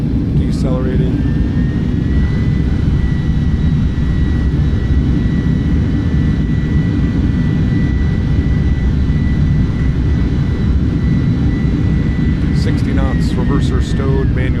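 Simulated iniBuilds A310 thrust reversers deploying on landing in Microsoft Flight Simulator, a loud sustained jet roar with a steady high whine, ending with a few short clicks.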